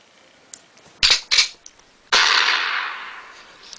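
A gun sound effect played from an iPhone gun app: a couple of sharp clicks and snaps, then a loud burst that trails off in a long hissing decay, close and with no talking.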